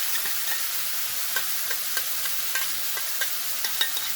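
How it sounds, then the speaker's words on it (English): Cream sauce poured into a pan of frying chicken meatballs, giving a steady bright sizzle with small crackling pops and faint stirring scrapes, close and continuous. "So now we're going to add the cream sauce."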